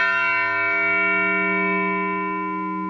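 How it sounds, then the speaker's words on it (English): A town bell tolls for a resident's death, one stroke per year of the person's life; a single rich, sustained ring hums steadily and slowly fades, with no voices. "if a resident were to die, the bell would ring, each ring representing 1 year of the person's life"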